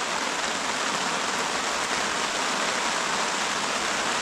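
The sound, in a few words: rain falling during autumn fishing on a lake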